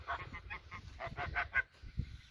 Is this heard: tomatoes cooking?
no